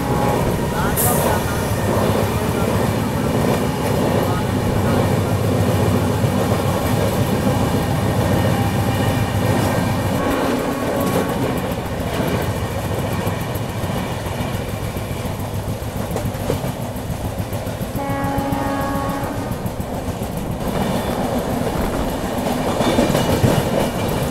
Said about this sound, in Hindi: फिलहाल अपनी ट्रेन चारपल्ली स्टेशन को स्किप कर रही है।